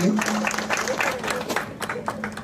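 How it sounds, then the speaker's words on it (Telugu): Audience applause fills a ceremony for the 55th safety fortnight celebrations at the Kistaram open-cast coal mine: steady, dense clapping from a crowd throughout, with a voice speaking over it. "గట్టిగా చప్పట్లు కొట్టి మనం వారు ఆహ్వానించాలి"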